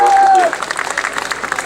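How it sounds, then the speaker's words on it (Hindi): Audience applause at a mushaira poetry gathering, a short burst of crowd clapping that follows a fading tone at the start. "बस जोरदार तालियां सर के लिए"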